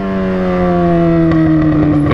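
Yamaha XJ6 motorcycle engine roaring close and loud, a sustained tonal drone with a gently falling pitch and small throttle pulses near the end, no voices.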